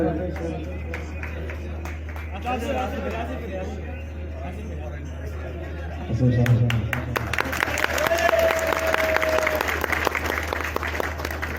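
Talk over a low hum gives way to a swell of crowd applause and chatter at a Sindhi community gathering in Pakistan honoring a guest, clapping building loudly in the last half with voices mixed in.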